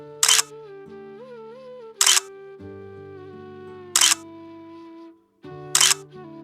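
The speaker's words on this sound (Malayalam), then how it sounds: "നമ്മൾ പിന്നെ ടപ്പ എന്ന് കുറേ ഫോട്ടോ ഒക്കെ എടുത്തു" Four crisp camera shutter clicks land at roughly even intervals while flowers are photographed in a shop, each a short bright snap over soft background music.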